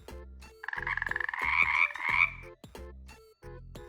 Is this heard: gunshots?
no